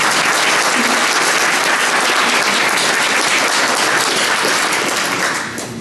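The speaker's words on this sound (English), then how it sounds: "Yeah, round of applause." Loud, sustained applause from a gala audience, a thick wash of many hands clapping at once that holds steady and then fades slightly at the end.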